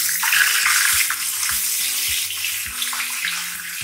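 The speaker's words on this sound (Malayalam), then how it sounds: "ഇനി ഇതിലേക്ക് നമുക്ക് ചേർത്ത് കൊടുക്കേണ്ടത് അരച്ചു വെച്ചിരിക്കുന്ന സവാളയാണ്" Ground onion paste dropped into hot oil in a pan over a medium flame while making tomato kurma, giving a loud, steady sizzle and crackle that continues with no talking.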